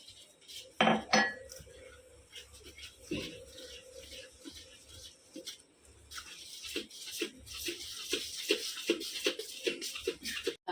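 Coriander vadi batter is mixed with water in a pan, with repeated clinks and scrapes of a utensil against metal and light sloshing in uneven bursts, close but fairly quiet.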